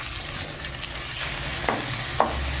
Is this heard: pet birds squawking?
no